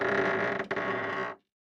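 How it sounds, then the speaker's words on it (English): A wooden door creaking open: one long, close, strained groan with a brief catch partway through, then it stops abruptly into silence. "Nathan opened the door."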